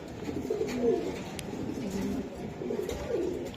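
Several pigeons, including Budapest, racer and Lahori birds offered for sale, coo nearby in soft, throaty, repeated phrases against a murmuring background.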